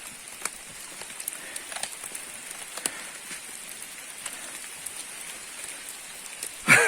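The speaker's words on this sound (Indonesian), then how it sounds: "Masih hujan." Rain falls on a mountain trail on Gunung Ciremai, a soft, steady patter close by with scattered sharper drops hitting nearby surfaces, and a brief louder knock right at the end.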